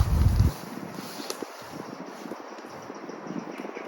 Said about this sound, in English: I don't know what way the wind's coming from.